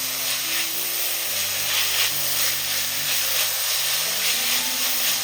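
Crushed ivy gourd and onions frying in a pan give a steady close sizzle and hiss that runs without a break, with a faint tonal hum underneath.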